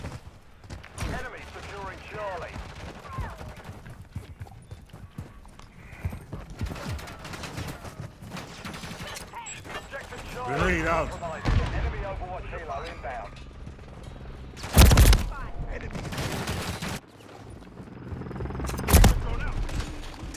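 Bursts of gunfire in the Call of Duty video game crack out in rapid volleys, with loud sharp spikes standing out, while a player talks over much of the action.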